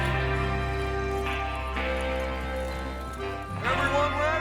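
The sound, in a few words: horses galloping, from the video game Red Dead Redemption 2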